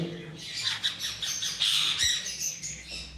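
Pet parrots such as rosellas and monk parakeets squawk in an aviary, loud harsh calls overlapping continuously with no pause.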